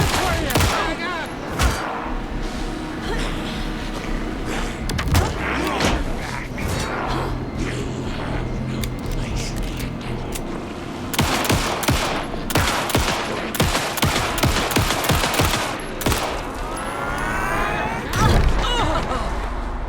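Gunfire rings out during a boss fight in the video game Alan Wake 2, with loud repeated shots and bursts cracking over a busy game soundtrack and effects throughout.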